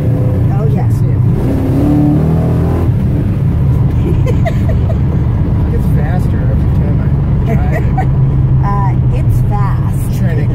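A 1967 Pontiac Le Mans with a 2800 stall converter and a faulty transmission rumbles loudly while driving, its engine rising and settling in steady revs as people talk inside the car.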